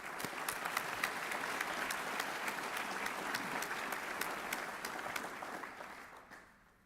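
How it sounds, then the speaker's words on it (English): A college audience at a student honors and awards reception gives a long, steady round of applause for the students being recognized, dense clapping that fades away at the end. "join me in another big round of applause for all of our students being recognized"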